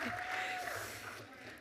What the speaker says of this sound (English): let's keep the clapping going